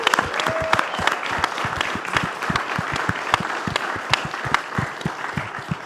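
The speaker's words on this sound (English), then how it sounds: "so stand up and let's give them applause." An audience applauds, many hands clapping in a dense, steady burst that continues throughout at an even volume.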